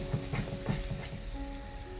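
Masala for paneer bhurji fries in oil over a gas flame, a dense close sizzle with rhythmic stirring scrapes early on, then a steadier hiss, no talk.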